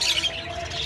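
A ringneck parakeet lets out a short, harsh squawking call, close and fairly loud, kept among other caged birds including cockatiels.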